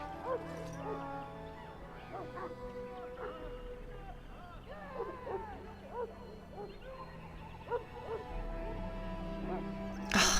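A Mabari war hound in the video game Dragon Age: Origins barks and whimpers in short bursts over a steady background with music-like tones, with a louder burst near the end.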